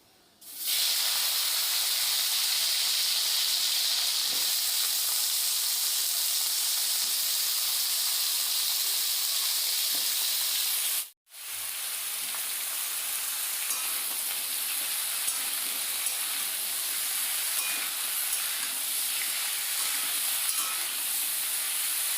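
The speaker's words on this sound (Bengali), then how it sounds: "একটু নুন দিয়ে সবজিগুলো ভাজতে দিলাম" Vegetables sizzle steadily in hot oil with panch phoron spices, a loud continuous frying hiss that breaks off briefly midway and then resumes.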